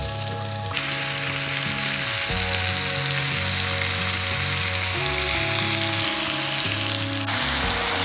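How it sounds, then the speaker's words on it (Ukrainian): Meat products for solyanka frying in a pan with a strong, steady sizzle and occasional stirring, music underneath and no talking. "Періодично помішуємо, щоб все рівномірно просмажило"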